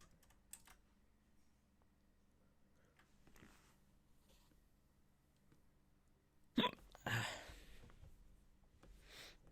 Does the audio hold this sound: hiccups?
yes